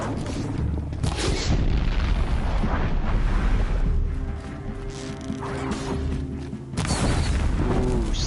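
Explosions erupt in the video game Horizon Zero Dawn, loud booming crashes layered over mechanical game sounds, with a brief lull before another burst.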